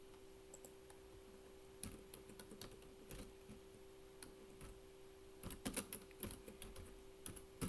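Keys clack on a computer keyboard while CSS code is written, coming in sparse bursts of quick taps with pauses between, quiet and close against a steady electrical hum.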